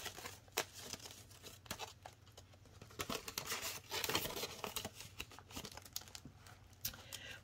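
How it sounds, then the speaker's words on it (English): Paper cash bills are handled, shuffled and laid out on a surface while cash envelopes are stuffed for a budget, giving soft crinkling and papery taps at close range, with no talking. "I'm going to take all of my rollover money out and lay it here"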